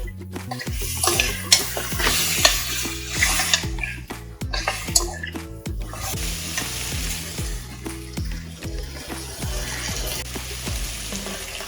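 A ladle stirs a thick mutton paya (goat trotters) mixture with salt in a pot, scraping and knocking in a steady repeated rhythm over a soft continuous sizzle, close and fairly loud, with no talking.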